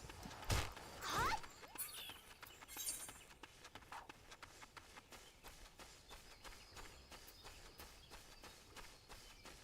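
Rapid hoofbeats thud early on, then settle into a steady clip-clop of footsteps over faint ambient game noise, with a brief whinny-like sound near the start.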